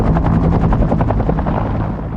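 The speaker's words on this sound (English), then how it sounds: "Bell Helicopter's Huey" A Bell UH-1 Huey helicopter thumps close and loud, its rotor beating in a fast, regular chop that carries through the whole short stretch.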